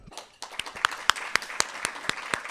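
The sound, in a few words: audience applause for medical residents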